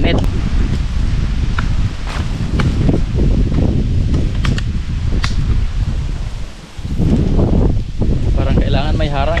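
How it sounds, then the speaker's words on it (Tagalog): Strong wind gusts outdoors at a copra-making site, a loud buffeting roar with rustling and brief dips, while a person talks through it. "Ang lakas ng hangin."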